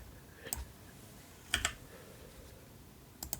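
Keys on a computer keyboard tap in three brief, faint clusters of clicks separated by quiet pauses, close up with no speech.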